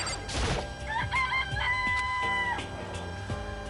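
Rooster crow from the video game Danganronpa: a single drawn-out cock-a-doodle-doo rising and holding steady, clear and fairly loud over a busy layer of game music and effects.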